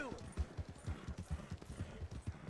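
Hooves of a horse in a video game clip-clop in a quick, even rhythm, close and moderately loud, with talk alongside.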